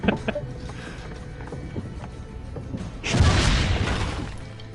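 A cannon fires in the video game Assassin's Creed Brotherhood: a loud, broad blast bursts out and rumbles away after a few quieter mechanical clicks and knocks.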